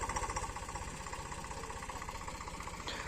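A tractor engine runs steadily in a field where sesame is being sown, its low, even chugging close and continuous throughout with no voices.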